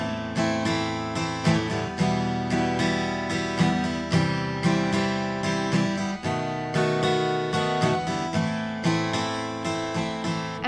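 Acoustic guitar strumming chords in a beginner down-up pattern, a steady, moderately loud rhythm of repeated strums with no talking.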